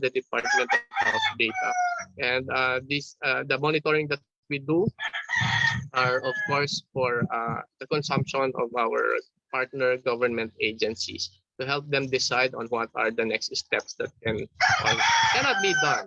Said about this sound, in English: Some of the roosters in the neighborhood wants to join in.